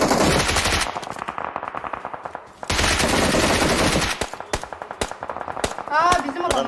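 An MG3 machine gun in PUBG Mobile fires in loud rapid bursts with short pauses between, ending in scattered single shots, with brief voice sounds mixed in.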